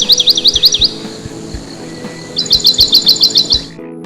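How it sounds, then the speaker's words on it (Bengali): Cartoon forest birdsong: two bursts of rapid, high trilling chirps, loud and close, separated by a brief lull over a soft background bed. "পাখি ডাকছে, পাশে একটি ছোট নদী বয়ে যাচ্ছে।"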